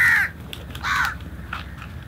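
Crows caw loudly at close range as they are fed outdoors on Pangkor Island, two harsh drawn-out calls with a softer third, with no voices.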